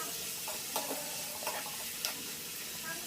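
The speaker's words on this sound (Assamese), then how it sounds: "বিলাহীটো অলপ সময় ফ্ৰাই কৰিব লাগিব" Tomato frying in a pan in an Assamese dried-fish and tomato curry, with dried fish added: a steady low sizzle with a few soft scrapes of stirring, no voices.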